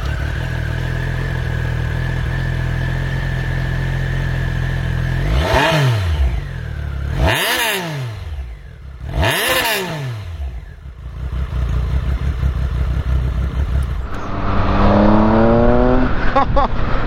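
A roadster motorcycle engine, an upgrade over a 1200, revving up repeatedly: three sharp rising accelerations stand out over a steady running drone, followed by a longer climb as the bike pulls away.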